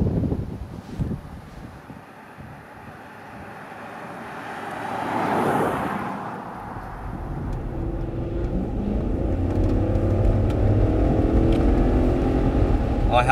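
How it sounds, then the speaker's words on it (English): A Range Rover fitted with a BMW V8 drives along, its engine note swelling and then settling into a sustained rumble mixed with road and wind noise. "I have missed the sound of this BMW V8"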